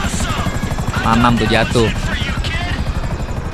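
A helicopter in Grand Theft Auto V thrums loudly with rapid rotor chopping and a steady engine whine. Someone talks over it.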